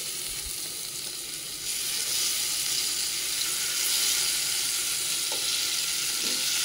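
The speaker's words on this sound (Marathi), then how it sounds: "हे आहे पनीर मस्त फ्राय होत आहे, पाहू शकता" Paneer fries in a pan on a home kitchen stove with a steady, close sizzle. The hiss swells louder partway through and carries on without talk.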